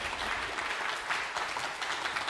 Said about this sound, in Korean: 우리 교수님을 큰 박수로 모시겠습니다